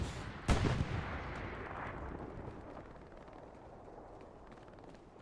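A single loud explosion in the World War II shooter Hell Let Loose, on the Tobruk map, bursting sharply near the start and rolling into a long rumbling decay over steady battlefield noise.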